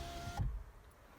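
The electric motor of a Jeep Renegade power window whirs steadily with the engine off, then stops abruptly, leaving a quiet cabin.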